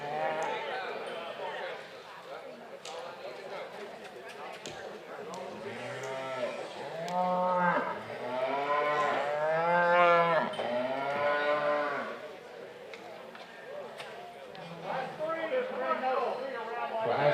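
Commercial heifers moo repeatedly in drawn-out calls at a regional junior livestock show, several loud bellows rising over a busy arena while an announcer's voice talks over the public address.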